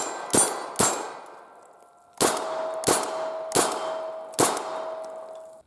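SOCOM rifle rounds striking a steel target, six sharp metallic clangs in an uneven sequence, each ringing out with a lingering tone before the next hit.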